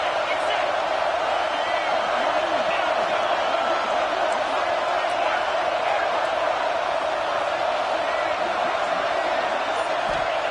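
Stadium crowd at a Clemson football game roars steadily on a big third down, a dense, continuous wall of cheering and noise that stays loud throughout without a break.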